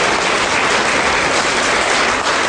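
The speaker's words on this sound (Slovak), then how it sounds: "Potlesk pre vás všetkých." Studio audience applauding together in a dense, steady burst of clapping that fills the space evenly, loud and close, with no voices over it.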